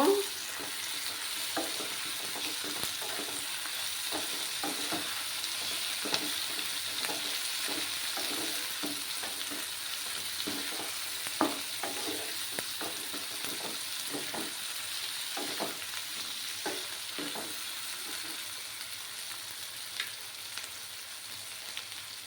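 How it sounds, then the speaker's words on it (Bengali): Katla fish head frying with ginger, garlic and green chili paste, a soft continuous sizzle broken by many irregular clicks and scrapes of a spatula stirring in the pan, heard alone without talk. "4-5 কোয়া রসুন আর কাঁচা লঙ্কা পেস্টটা দিয়ে দিলাম। দিয়ে ভালোভাবে নাড়াচাড়া করব।"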